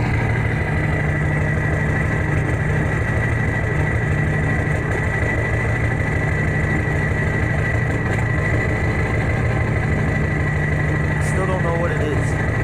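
A warmed-up Ford 7.3 diesel truck engine idles steadily outdoors on a cold, windy day, a loud, even low rumble with rapid regular pulsing throughout, with faint wind noise in the background.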